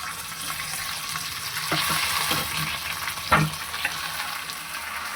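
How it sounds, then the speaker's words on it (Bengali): Soaked rice with cashews and raisins frying in a pan for pulao makes a continuous close sizzle, with a few brief stirring scrapes and clinks. "দিয়ে ভালো করে ভেজে নেবো"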